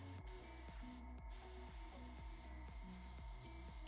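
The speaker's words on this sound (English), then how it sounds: "See if we got some good spray." An airbrush hisses steadily while spraying paint onto a resin 3D printed can coozie, a faint continuous spray heard alone over a low rhythmic mechanical hum.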